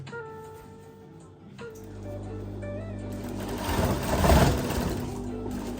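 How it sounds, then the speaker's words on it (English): Sewing machine stitching fabric onto a trouser back pocket, a motor hum that builds into a louder, rising whir of rapid stitching, close and alone. "I'm just gonna stitch on this fabric here on the pocket"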